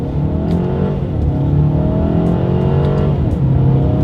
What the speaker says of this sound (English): let's test out the paddle shifters here. All right, we are in manual shift mode in first gear,